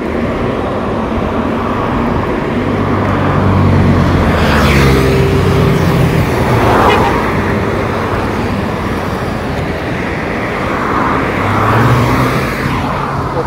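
Steady roar of road traffic on a busy road in Malaysia, with cars passing close by and swelling as they go past, loud and continuous.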